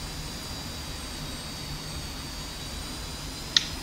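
A jet airplane landing in the DCS combat flight simulator gives a steady, fairly quiet engine drone with a faint high whine. A single sharp click sounds near the end, and no one speaks.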